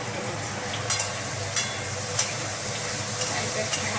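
Two medium chopped onions sizzle steadily in a pan after garlic, a close continuous frying hiss broken by a few sharp spatula scrapes and taps as they are stirred.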